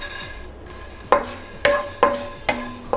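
Coriander and whole spices being dry roasted in a hot pan, heard as a faint soft rustle broken by four sharp, ringing clinks of a metal spoon or spatula striking the pan at a loose, roughly half-second rhythm, close up and without talk.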